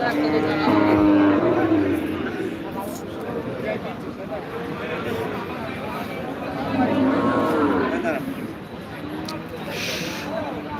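Cows moo repeatedly at a livestock market in Betaga, long low calls rising and falling amid the hubbub of people talking nearby.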